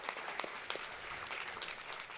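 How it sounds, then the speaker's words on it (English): Audience applause in a presentation hall after a talk, a steady wash of many hands clapping at moderate level, fairly distant and even throughout. "A round of applause,"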